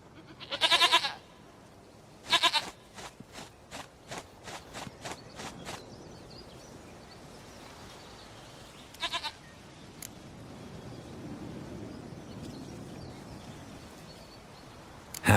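Goat in The Witcher 3 video game giving two short bleats up close, followed by a quick run of soft footsteps, a third brief bleat, then quiet ambient background.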